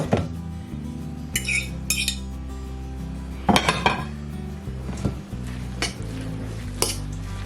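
Salt-fish fritter batter being mixed in a bowl, with clinking utensil strikes, scraping against the bowl and a wet squishing of the batter, close and fairly loud.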